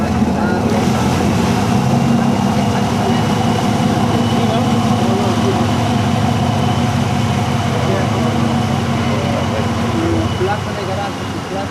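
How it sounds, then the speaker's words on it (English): A small motorboat engine drones steadily nearby as the boat enters a marina, a constant low rumble with wind and water noise, fading slightly toward the end. "one of the smaller boats close to as it enters the"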